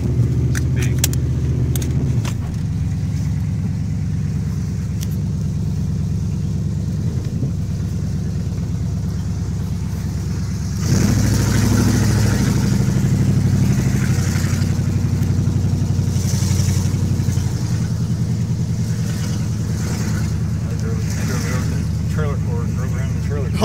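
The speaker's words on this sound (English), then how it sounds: "So I'm choosing to start this car." A 1978 Chrysler Cordoba on a low battery cranks and rumbles in a steady low drone, surging louder partway through as the engine catches and idles roughly, while people talk nearby.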